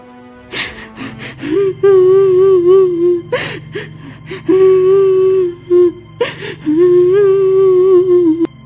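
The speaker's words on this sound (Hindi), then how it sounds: "अरे ये रोने की आवाज किसकी है?" A cartoon princess sobs and whimpers inside a cave, long wavering wails broken by sharp gasping breaths, loud and close against a low droning background.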